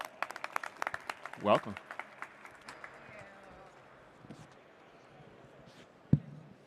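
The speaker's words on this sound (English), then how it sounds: "Let's give them a round of applause." Brief audience applause at a live stage session of a trade show as speakers walk on, a short burst of clapping mixed with talk and announcer speech, fading into room murmur with one sharp knock near the end.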